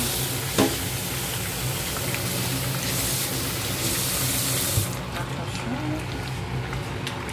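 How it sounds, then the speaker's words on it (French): A small spoon is rinsed under a running kitchen tap: a steady rush of water for about five seconds that cuts off abruptly, followed by quieter kitchen background sounds. "Pardon, je vais laver ma petite cuillère."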